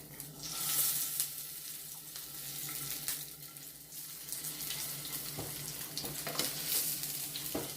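A salmon patty fries in a pan just after being flipped, a continuous close sizzle with crackles and spits that swell and ease, with no talking.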